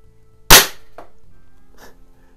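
A single Weihrauch air rifle shot goes off inside a garage as one sharp, loud crack with a brief metallic ring after it, followed by a couple of faint mechanical clicks.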